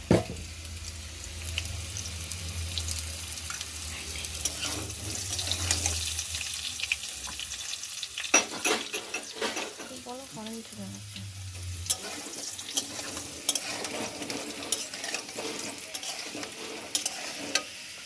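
Potatoes frying in oil with a little turmeric, a steady close sizzle with stirring and scraping clatter, some watery splashy passages and occasional utensil clicks, no talking.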